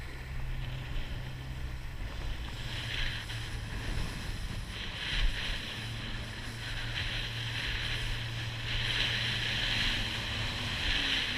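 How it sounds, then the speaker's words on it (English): A fishing boat heads out on the water off Rhode Island with a steady low engine drone, heard at a distance under blustery wind and the wash of waves. "There's one fishing boat going out."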